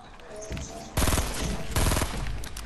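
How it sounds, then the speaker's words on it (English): Gunfire in the video game Fortnite, two dense rapid bursts of shots about a second apart over a low game background, loud and close. "He shot me through a wall."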